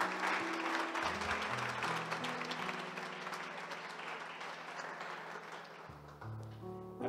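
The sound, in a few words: applause for Moisés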